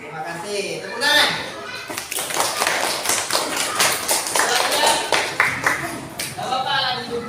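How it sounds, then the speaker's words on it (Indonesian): Children clapping hands together in a classroom, a burst of several sharp, close claps in a loose rhythm, with children's voices and an adult talking before and around them. "Tepuk tangan."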